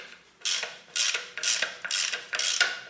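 A hand ratchet tool turns a transmission drain bolt loose on a Toyota Corolla, sounding as five or six quick, evenly spaced bursts of clicking pawl, close and fairly loud with short pauses between strokes, no talking.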